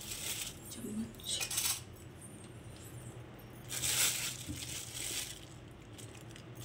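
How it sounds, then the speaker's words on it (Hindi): Spoon scraping and clinking as chutney is scooped onto a side plate, giving a few short metallic taps and scrapes in a quiet indoor space with soft background hum. "तो ये चम्मच से चटनी निकालूंगी, चटनी इसको भी एक साइड प्लेट में रखूंगी।"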